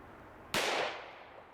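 A single sharp gunshot from a .44 Special revolver fired at a bulletproof mask, a sudden loud crack with a short decaying tail, standing alone against quiet background.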